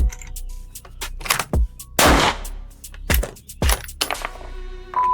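A .308 rifle fires surplus cartridges outdoors, several sharp, loud reports spaced irregularly over a few seconds, each with a short echoing tail.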